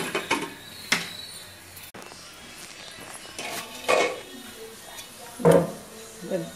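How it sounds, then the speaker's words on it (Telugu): A lid goes onto a cooking pot of tomatoes and tamarind-leaf small-fish curry. Several sharp metallic clanks and knocks stand out over a quiet kitchen background. "2 నిమిషాలు మూత పెట్టేద్దాం."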